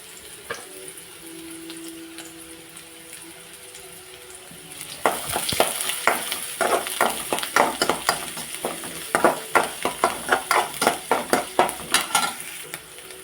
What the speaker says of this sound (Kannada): ಈಗ ಇದು ಬಿಸಿಯಾಗಿದೆ ಇದಕ್ಕೆ ಚಿಕ್ಕದಾಗಿ ಕಟ್ ಮಾಡಿದ ಈರುಳ್ಳಿಯನ್ನು ಹಾಕುವ